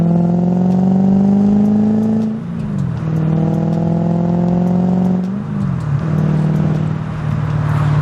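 A V8-swapped manual IS300 wagon accelerates hard through short gears, engine note climbing loudly and dropping at each quick shift, twice in succession, close and continuous.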